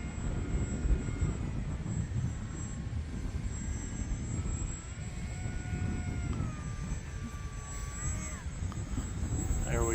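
A HobbyZone Aeroscout RC plane's electric motor whines steadily overhead in gusty wind, its pitch rising and falling as the throttle changes and the motor is eased back, with wind rumble underneath.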